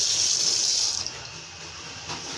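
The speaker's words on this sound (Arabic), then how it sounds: "الميه بتجري على طول على فتحه الصرف على طول." Water runs across the floor of a repaired fiberglass bathtub toward the drain, a close hissing trickle that flows strongly at first, then drops to a quieter, thinner stream.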